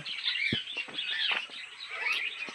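Lovebirds in a zoo enclosure twitter continuously in high, busy chatter with a few sharper calls, moderately close and without talking.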